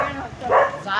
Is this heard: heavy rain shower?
no